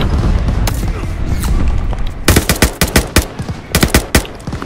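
Bursts of automatic gunfire from the Call of Duty: Vanguard campaign, sporadic shots early giving way to rapid, loud clustered volleys near the listener, with background battle ambience underneath.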